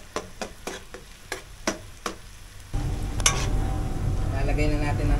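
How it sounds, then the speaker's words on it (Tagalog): Onion and garlic hitting a hot pan for a seafood boil: a few sharp ticks and clinks, then a sudden loud, continuous sizzle that keeps frying close by. "isutay lang natin hanggang maluto ang sibuyas at ang ating bawang."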